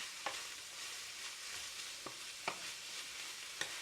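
Cabbage stir-fries in oil, giving a soft steady sizzle broken by a few sharp scraping stirs of the utensil in the pan.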